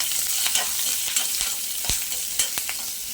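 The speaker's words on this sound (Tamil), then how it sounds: "போட்டு அதில் ஒரு வதக்கு வதக்கிடலாம்." Onion and garlic sautéing in a pan for a spicy garlic-pepper curry, a continuous close sizzle broken by repeated stirring scrapes and taps.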